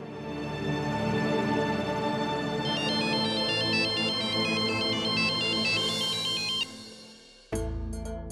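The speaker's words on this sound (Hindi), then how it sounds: "अरे ये तो पकिया का कॉल था" A mobile phone rings with an incoming call, playing a loud, repeating melodic ringtone for about six seconds. It cuts off briefly, then a short burst of another sound follows.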